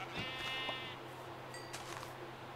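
A sheep in Minecraft bleats once, a wavering harmonic call near the start, over a steady game-ambience hum with a few soft chimes and clicks afterward.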